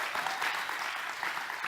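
A congregation applauding a pastor, Samuel Soares, at an evening church gathering, an even wash of clapping at moderate distance, continuous and fairly soft for its short span.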